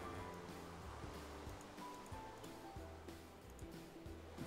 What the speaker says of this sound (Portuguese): Tá caindo água do Paranauê!